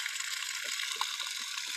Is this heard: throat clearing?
no